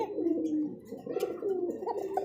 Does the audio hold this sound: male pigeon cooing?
yes